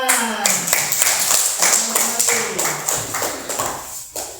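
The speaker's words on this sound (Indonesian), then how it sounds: "Tepuk tangan" A school class claps hands in a classroom with a burst of fairly close, irregular clapping that gradually thins, while a voice is faintly heard over it.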